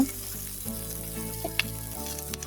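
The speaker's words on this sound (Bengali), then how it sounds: "এখন পেঁয়াজগুলি আমি ভালো করে ভেজে নেব" Thinly sliced onions frying in a pan, a steady soft sizzle with faint stirring clinks, alone and continuous without talk.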